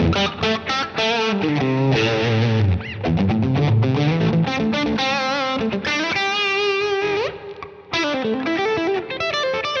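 Electric guitar played through an effects pedal with reverb switched on, giving loud distorted chords and melodic runs that ring out continuously and wash into each other.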